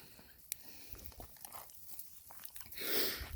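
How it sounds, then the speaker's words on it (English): Cane Corso dogs gnawing on a stick, giving quiet, irregular crunches and bites close by with soft patter, faint throughout. "Father-daughter stick chewing."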